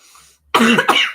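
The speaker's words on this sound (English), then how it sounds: "I need to cough." One sharp, loud cough close to the microphone, a double burst after a moment of quiet.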